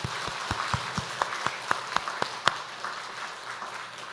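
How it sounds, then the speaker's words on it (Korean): A congregation at a Sunday morning church service claps together in a steady, fairly regular rhythm, moderately loud and close, with no speech over the applause. "박수로 크게 영광 올려드리겠습니다."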